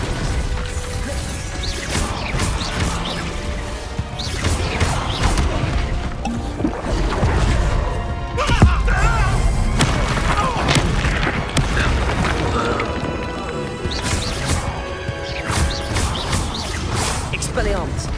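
Confringo fire spells exploding in Hogwarts Legacy: dense, continuous battle noise of repeated booms, crashes and crackling impacts at high loudness, with voices calling out over the fighting throughout.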